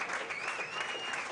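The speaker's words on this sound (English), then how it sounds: "A nice round of applause." Crowd applause at a high school football game, a steady wash of distant clapping sustained throughout, fairly faint and without talk.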